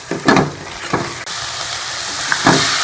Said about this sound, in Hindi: इसको थोड़ा सा और मैं भून लूँगी